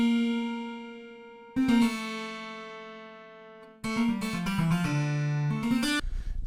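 Plucked harp guitar notes from a sampled instrument ring out clean and dry with no effects, a single sustained note first, then a quicker run of several notes, close and clear.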